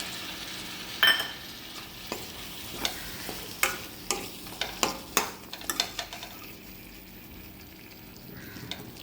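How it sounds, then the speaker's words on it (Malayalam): Salt water is poured into a masala curry frying in a pan, with a soft sizzle and bubbling, a few light clinks and taps, and a run of close scraping stirs in the middle, fairly quiet overall and without talk. "അതുകൊണ്ട് ഉപ്പുവെള്ളം ഒഴിച്ചു കൊടുക്കാം"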